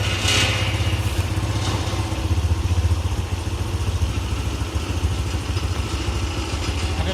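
Steady, close motorcycle engine idling with an even low-pitched chugging throb and light mechanical clatter, running alone without talk.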